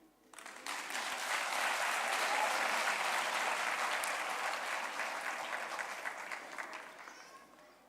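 A crowd at the National Arts Festival 2022 official opening breaks into sustained applause that swells quickly, holds for several seconds and gradually thins near the end, heard at a moderate distance without speech.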